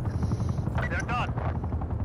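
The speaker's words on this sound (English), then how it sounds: "An attack helicopter available for tasking." Attack helicopter in the video game Call of Duty: Black Ops Cold War, a steady rotor drone with bursts of gunfire and sweeping effects layered over it, while voices talk throughout.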